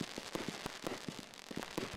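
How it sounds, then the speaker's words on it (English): Fireworks bursting over a lake, a rapid irregular string of sharp distant cracks and pops, roughly a dozen in two seconds, faint and crackling. "The fireworks have become a tradition over the last 4 years"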